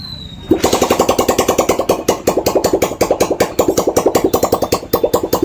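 A Honda Shine motorcycle engine runs with no silencer fitted: a close, loud, raw rapid staccato of exhaust pops in a steady chattering rhythm, kicking in after a brief quiet start.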